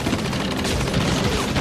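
Dense, continuous gunfire with overlapping bursts and rattling automatic fire, like a sustained battle barrage from the Normandy invasion of World War II, loud and close throughout with no talk.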